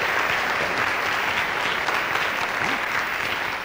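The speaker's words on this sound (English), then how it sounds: "if you give me a round of applause" Dense, steady applause from an audience at a formal high school assembly fills the whole stretch without pause, loud and even throughout.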